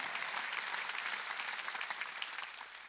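A congregation at a Korean Sunday church service claps hard: dense, sustained applause from many hands that stays loud throughout.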